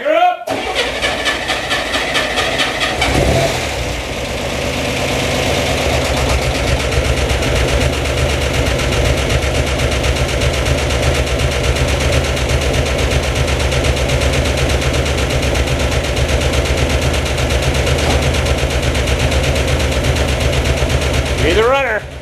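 A Spyder engine cranks briefly, then catches and runs at a steady loud idle for about twenty seconds, with a short voice at the very start and end.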